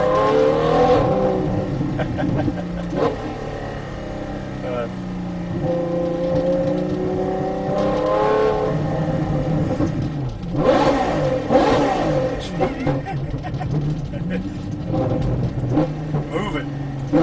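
A Ferrari 812 Superfast engine revs and drones, rising and falling in pitch with exhaust rumble, while someone talks over it throughout.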